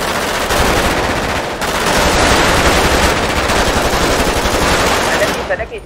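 Rapid, continuous gunfire rattles loudly, with bursts running almost without pause and a voice partly buried beneath it.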